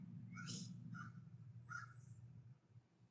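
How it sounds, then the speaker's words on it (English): Several crows caw outdoors in a short run of harsh calls, moderately faint over a low steady background rumble, with no talk. "I hear the crows. Yeah, I'm not surprised. They're freaking noisy today."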